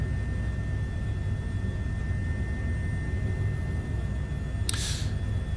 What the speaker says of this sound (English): I absolutely love flying this helicopter.